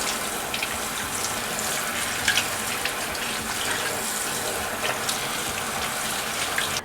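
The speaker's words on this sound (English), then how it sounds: "And then I like to rinse off the leaves." Tap water runs steadily over farm-fresh vegetable leaves being rinsed in a kitchen sink, a close, continuous splashing rush with small clatters and drips, no talking.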